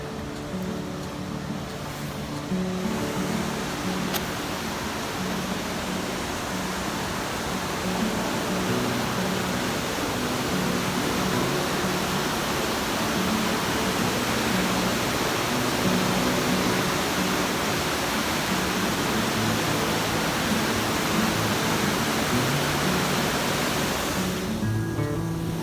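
Water rushes loudly and continuously through the Shelburne Hydro Station, a dense, steady roar that holds unbroken from start to finish.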